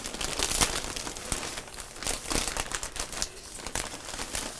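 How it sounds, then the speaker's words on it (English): Plastic packaging wrapped around a haul of King Cole yarn is pulled open, with close, continuous crinkling and tearing rustles in irregular bursts and no talking. "I'm going to open up the plastic so you can see."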